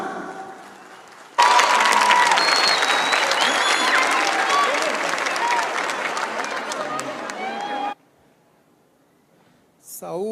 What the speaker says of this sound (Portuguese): Vamos receber o nosso líder com uma calorosa salva de palmas.